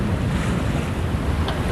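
Steady wind rush and sloshing waves aboard a sailboat on a broad reach at sea between Hawaii and Japan, loud and continuous with microphone buffeting, no voices.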